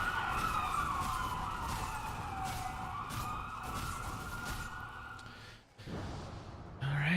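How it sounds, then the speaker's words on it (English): Emergency vehicle sirens wail continuously in the background, a steady rising and falling tone that cuts off briefly near the end. "I'm sorry about the sirens."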